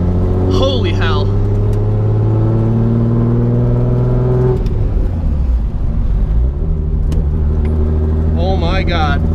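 A self-built Nissan 240SX S14 with an RB26/30 engine accelerates hard from the driver's seat, loud engine tones climbing through gears with a shift drop midway and rising again, an excited voice exclaiming over it.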